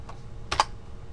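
A few quick keystrokes on a computer keyboard while entering an Excel formula, two or three soft clicks close together, nearly alone over faint room hum.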